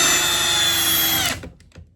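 A Ridgid subcompact drill on speed 2 in drill mode whines loudly and steadily as it drives a 6-inch timber lock screw into wood, then stops abruptly, followed by a few faint knocks.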